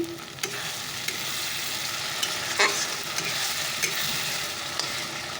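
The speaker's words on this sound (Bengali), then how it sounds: "মশলাটা কষিয়ে নিচ্ছি" Spice masala frying in a pan before chicken goes in, a dense, steady sizzle with scattered scraping stirs of a spatula, close and fairly loud, with no voices.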